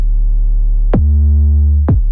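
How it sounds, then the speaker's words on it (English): Distorted 808 bass in a K-pop style beat plays as two loud, gritty, sustained low notes with bright crunchy harmonics, each retriggered with a sharp attack about a second apart, alone. "So I've added some more distortion"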